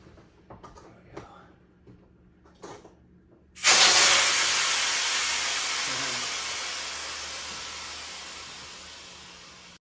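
After a few quiet handling clicks, a valve on an inflatable paddle board is opened and air rushes out in a loud, sudden hiss that continues steadily, gradually softening over several seconds, up close with no talk.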